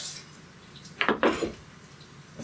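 Japanese sticky rice with butter is broken up and mixed in a pot, giving a couple of close, quick scraping and clanking strokes of a utensil against the pot amid quiet room tone.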